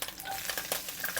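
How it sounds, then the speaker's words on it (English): Thinly sliced onion frying over medium heat in a pan, a close, continuous sizzling hiss with light stirring scrapes through the short stretch. "Using medium heat, we'll add in 1 onion, sliced thinly like this."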